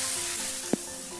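Asafoetida and spices frying in a pan give a steady close sizzle, broken once by a brief scrape of stirring.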